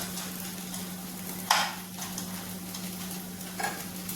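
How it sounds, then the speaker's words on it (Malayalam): Beaten rice mixture cooks in a pan under a faint steady sizzle and low hum, broken by two distinct spatula stirs scraping the pan, close by and without speech. "എല്ലാത്തിനും കൂടെ മിക്സ് ആകാൻ വേണ്ടിയിട്ട് ഒന്ന് ഇളക്കി കൊടുക്കാം"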